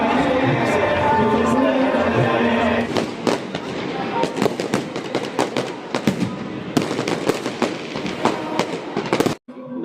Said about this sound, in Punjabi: ਦੀਵਾਲੀ ਮੌਕੇ ਬੰਦੀ ਛੋੜ ਦਿਵਸ ਮੌਕੇ ਆਤਿਸ਼ਬਾਜ਼ੀ ਦਾ ਨਜ਼ਾਰਾ ਦੇਖਣ ਆਏ